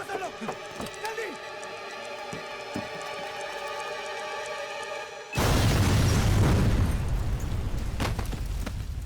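A bomb goes off with a sudden loud explosion that cuts through an earlier tonal, rhythmic backdrop and rolls into several seconds of dense, roaring noise and rumble.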